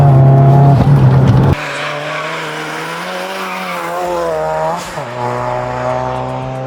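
An Abarth Stage 3 car with a Garrett GBC 250 turbo driven hard, its engine roaring loud and close, dropping from high revs into a lower gear, then pulling up through the revs again with a brief dip as it shifts.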